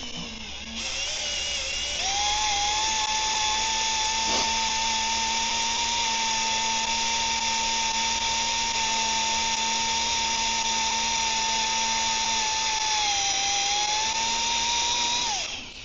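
A power drill bores steadily through steel armor plating on a logging truck, a loud sustained high whine that holds pitch for several seconds with a brief dip near the end.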